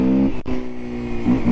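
A Kawasaki KLX230 motorcycle engine revving close up, a steady buzzing drone with a brief cut near the start before the revs rise again.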